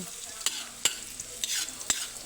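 Patola and sotanghon noodles being stirred and sautéed in a pan, with sharp utensil scrapes at irregular intervals over a soft, steady sizzle, close and fairly quiet.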